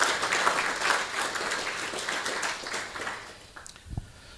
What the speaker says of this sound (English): Please may we give a round of applause to ourselves.